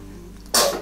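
A single short, sharp sneeze bursts out near the end after quiet room tone, close and fairly loud, with a brief breathy tail.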